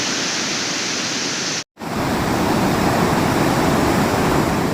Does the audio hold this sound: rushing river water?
yes